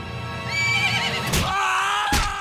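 A horse in an adult animated cartoon gives a loud, close whinny that rises and wavers for about two seconds, with a faint clip-clop of hooves and no talking.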